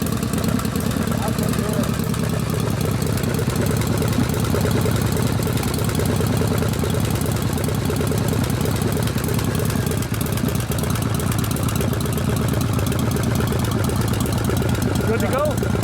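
A rebuilt 1979 Harley-Davidson Shovelhead 80ci V-twin idles steadily, a loud, even, lumpy rumble that holds for the whole stretch, with people talking over it.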